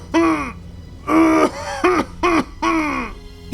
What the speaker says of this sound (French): Solstice se mit à tousser.